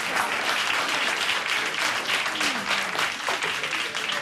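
Studio audience applauding on a talk show, a dense, sustained wash of clapping that fills the whole stretch at steady loudness with no speech over it.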